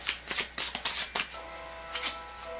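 Tarot cards being shuffled by hand, a quick run of crisp riffling bursts in uneven rhythm, close and clear, trailing into a softer rustle, with no speech.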